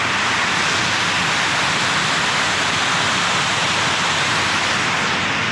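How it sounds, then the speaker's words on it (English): Steady broadband rush of falling water from below a foggy viewpoint, captured by a GoPro Hero 8 microphone; a constant, loud, unbroken roar like a waterfall with no voices. "there'll be a lot of water noise there because the GoPro Hero microphone is going to pick up everything"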